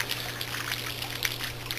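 A steady, soft patter of falling water, like light rain trickling down, a rain sound effect in a puppet show, continuous and fairly quiet with no voices.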